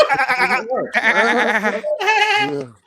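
A voice imitates a sheep's baa in three drawn-out, wavering bleats, loud and close, with no other sound around them.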